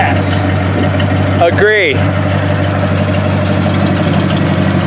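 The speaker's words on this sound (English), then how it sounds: "hit the starter button, give a little gas here" A Packard Straight 8 engine idles steadily just after its distributor has been installed, a low even rumble holding throughout, briefly overlaid by a short spoken word partway through.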